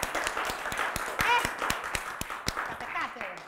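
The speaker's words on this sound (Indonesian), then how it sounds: "Tepuk tangan dulu buat Mas Jihan." A few people clap for a guest on a casual Indonesian studio talk show, with a comedy film director present. Sharp, distinct claps fall in an uneven patter close by, while voices chatter and laugh over them.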